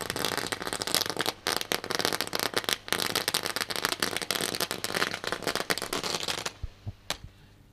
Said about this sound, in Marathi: फटाक्यांच्या आतिषबाजीमध्ये या ठिकाणी आपण पाहतोय